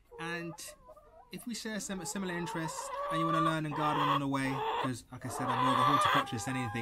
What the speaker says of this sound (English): Sorry about the birds, they're excited.